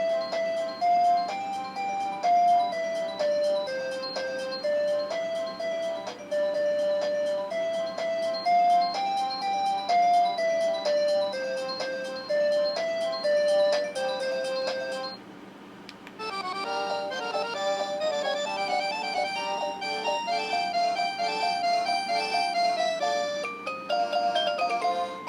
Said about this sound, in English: We can set our ringtone.